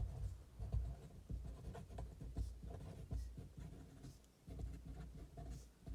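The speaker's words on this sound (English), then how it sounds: "I'll clearly write the height of the pole" A pen or pencil scratches steadily across paper in short strokes, close and quiet, with soft pauses between bursts while someone works through a physics problem.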